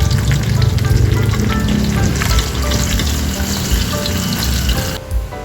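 Tilapia frying in a pan in a home kitchen gives a loud, steady, crackling sizzle that runs the whole time, dipping briefly near the end.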